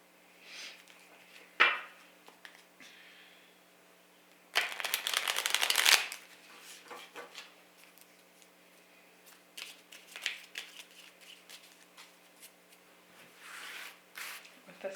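Tarot cards are drawn and shuffled close by, with a crisp riffling burst mid-clip among scattered softer card flicks and taps, while a voice speaks quietly between them.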